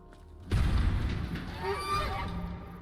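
A loud, sudden boom opens into a couple of nasal goose-like honks, close and harsh, fading into a lingering rumble.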